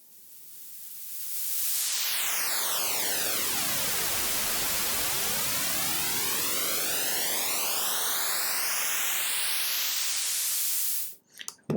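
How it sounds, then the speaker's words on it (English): Steady white noise with one channel delayed, producing a comb-filter sweep that swoops down and then back up through the hiss, loud and constant for about ten seconds before cutting off abruptly. "What that should sound like to you is basically a filter sweeping through white noise."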